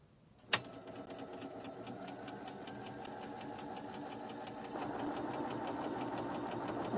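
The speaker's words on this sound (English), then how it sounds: "Make sure you sew them because you don't want to sew up here at the end of your leaf." Sewing machine stitching an aspen leaf quilt block, a steady rapid mechanical whir with fine rhythmic ticking that starts after a sharp click and grows slightly louder midway.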